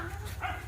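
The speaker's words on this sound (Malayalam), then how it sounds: "പട്ടി ഉണ്ട് കേട്ടോ." A dog near a temple during an Ayyappan festival gives a short bark or yelp, brief and moderately close over a low background hum.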